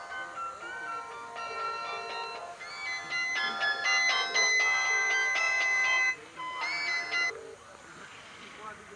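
A phone rings with a melodic electronic ringtone, repeating tonal phrases for several seconds before stopping, fairly close and clear.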